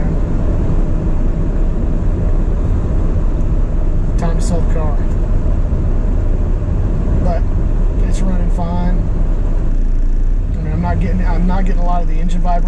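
A car engine idles steadily and fairly loud after a throttle position sensor repair, a constant low rumble that holds throughout while a person talks over it at intervals.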